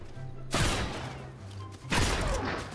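Gunfire in the video game Fortnite, two loud, sharp bursts about a second and a half apart, each with a ringing decay, close and prominent over a low game background hum.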